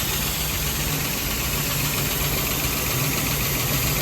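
A 1970 Jeep engine, fitted with a new starter and new fuel pump, idles steadily and loud up close, a rough continuous rumble with a faint knocking pulse and no talk.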